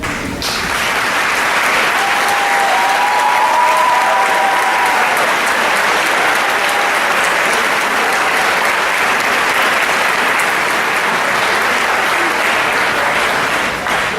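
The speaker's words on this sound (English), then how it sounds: "if everyone can join me in a round of applause to recognize the hard work that was done both in and out of school" A graduation audience applauds steadily and loudly for the full stretch, a dense wash of clapping with a few brief whistles or cheers rising above it early on.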